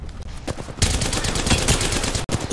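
Dense, sustained automatic gunfire from an Apex Legends match, loud and continuous bursts layered with sharp cracks, a brief dropout near the end, with no talking.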